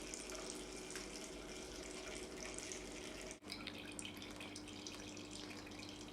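Spiced apple and quince liquid, with cloves and ginger, strains through into a bowl on the floor, a continuous close trickling and splashing pour with one brief break partway through.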